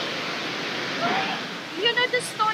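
Water pours steadily over the Stoney Creek weir waterfall as a constant broadband rush, with a voice speaking briefly over it near the end.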